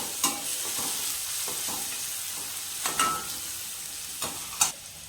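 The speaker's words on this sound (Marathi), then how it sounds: "त्यानंतर त्यात थोडी हळद घालते, 1 चमचा हळद." Turmeric being stirred into dal khichdi in a hot pan, with a steady sizzle under several scraping spoon strokes and a few sharper clinks, close and fairly quiet.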